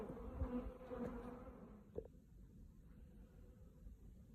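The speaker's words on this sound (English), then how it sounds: "Seems to be a reasonable number of bees in there." Honeybees humming and buzzing at an open hive during a feeding check with liquid feed and fondant, a steady droning swarm close to the microphone with a few brief knocks and handling sounds.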